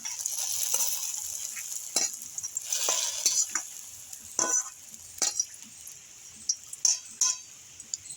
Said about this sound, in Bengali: নারকেলটা ভাজা হয়ে গেছে, আমি খিচুড়ির হাঁড়িতে দিয়ে দিচ্ছি